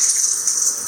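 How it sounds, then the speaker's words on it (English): Water rinsing dirt from a reverse cycle aircon filter screen, a steady close hiss of spraying and splashing water with no pauses. "Just rinse that dirt off the screen."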